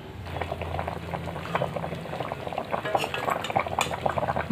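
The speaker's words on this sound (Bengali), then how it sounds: "জলটা ফুটে উঠলে তারপরে মাছগুলো দেব।" Water bubbles and boils steadily in a pot for a thin fish curry, with a dense close-up bubbling texture and a few faint utensil clinks, no talk.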